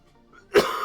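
A single sharp cough bursts out near the end of a quiet stretch, close and loud, followed by a lingering breathy tail.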